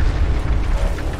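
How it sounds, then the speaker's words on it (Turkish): An explosion in the Mad Max video game booms as a deep, loud, rumbling burst filling the whole moment, with no talk over it. "Patladı."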